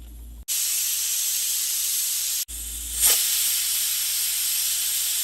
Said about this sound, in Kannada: ಈಗ ಕುಕ್ಕರ್ ಆಫ್ ಮಾಡ್ತೀನಿ. ಸೊ 3 ವಿಸಿಲ್ ಬಂದಿದೆ.